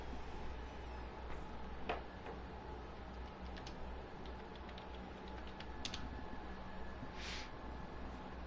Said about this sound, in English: So I tried typing something into chat there